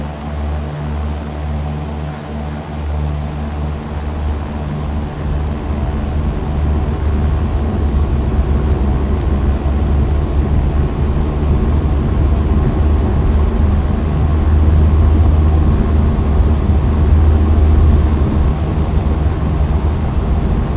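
Aircraft engine in the X-Plane 11 flight simulator spooling up for takeoff from Juneau International, Alaska: a steady, loud, low droning roar that swells after the first few seconds and holds throughout, with no talking.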